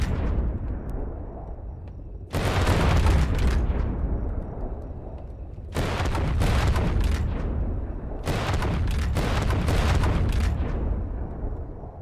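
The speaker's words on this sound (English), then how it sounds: "You feel the storm cannon?" Storm cannon artillery fires in a video game battle, three heavy booming blasts with long rumbling decays, each followed by crackling debris, loud and close.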